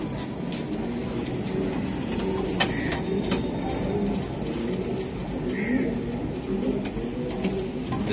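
Racing pigeons coo softly amid a busy loft or market, low murmuring calls under a dense steady background rumble with occasional faint chirps and clicks.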